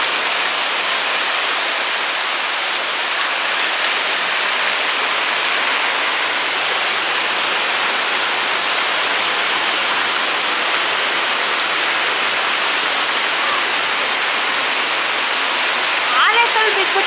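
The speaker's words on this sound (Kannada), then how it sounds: "ಏನು ಜೋರು ಮಳೆ ಇದೆ ನೋಡಿ, ಏನು ಶಬ್ದ." Heavy rain pours down steadily in a dense, loud, unbroken roar at a home on a morning around ten o'clock, with no pauses across the whole stretch.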